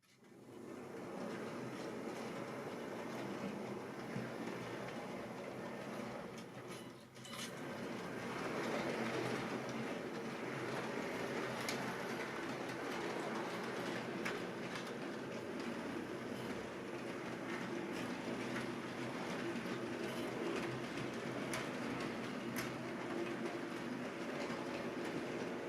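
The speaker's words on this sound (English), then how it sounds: "So that's the whole train through the points going forwards" Rapido UK model train hauling a GNR 8 ton van rolls steadily forward through the points, a continuous close clickety-clack of small wheels on model track with brief rail joint clicks, running alone without voices.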